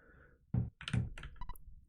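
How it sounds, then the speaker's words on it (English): Knocking at a door in the video game EarthBound comes as a few quick, sharp thunks in a row, followed by small game blips, fairly quiet overall. "What an annoying knock."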